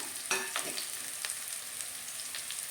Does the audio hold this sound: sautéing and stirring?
yes